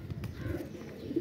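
A high flyer pigeon gives a low, soft coo, close by against a steady murmur of background noise.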